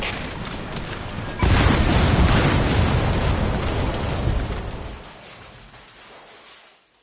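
A separator tank explodes in Metal Gear Solid V: a sudden loud blast after a quiet stretch, followed by a long roaring, crackling rumble that slowly fades away over several seconds.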